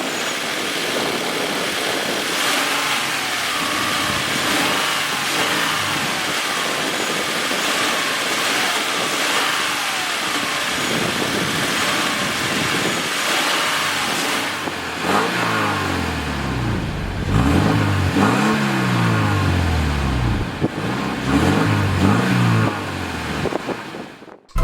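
A 2013 Scion FR-S with its 4-cylinder engine runs steadily, then revs up and down several times in loud, close bursts toward the end, with no talking.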